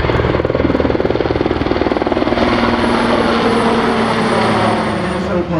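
A C-130 Hercules flying past at a South African Air Force capability demonstration air show, a loud droning propeller roar with a pulsing beat that holds steady then slowly eases.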